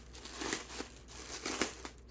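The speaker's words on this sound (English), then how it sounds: "Maybe this is the plastic bag." A plastic bag from an order of craft supplies crinkles while being handled, giving close, irregular rustles and crackles with no voices.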